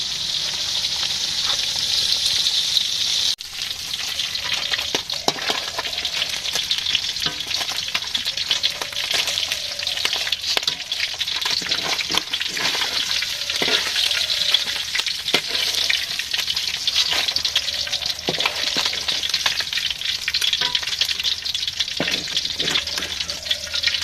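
Bitter gourd (karela) fries steadily in a pan in a village kitchen, with a continuous loud sizzle broken by repeated scraping stirs and no talking.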